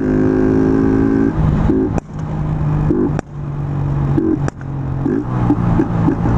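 A fuel-injected motorcycle engine revs up and is cut repeatedly, a droning harmonic rev broken by sharp backfire pops and crackles at intervals, loud and close.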